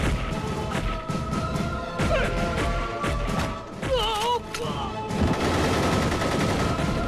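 Rapid bursts of gunfire crackle loudly and continuously, with sharp repeated shots and crashing impacts throughout, growing denser toward the end.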